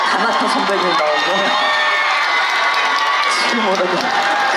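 At the Siheung Wolgot Sorae Port festival, a large concert crowd applauds and cheers. The roar is loud, steady and close throughout, with occasional higher shouts rising out of it.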